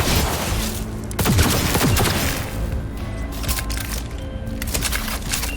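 Sustained gunfire in the video game Cyberpunk 2077, a loud fusillade of overlapping shots and cracks with a few sharper booming bursts, continuous throughout with no speech.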